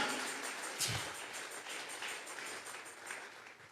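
Congregation applauding together in a church, a steady wash of clapping at moderate level with no voices over it.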